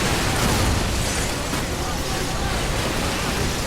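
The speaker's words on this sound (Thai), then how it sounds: "ระเบิดตูมหนึ่งที" A sustained, roaring explosion blast in the video game EDF 6, dense and loud throughout with a slightly stronger burst near the start, heard without talk.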